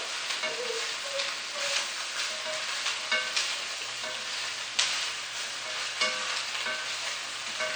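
Garlic, onion and vegetables sautéing in butter for beet soup, a steady crackling sizzle with occasional sharp spatula taps and stirring scrapes, close and moderately quiet, with no talking.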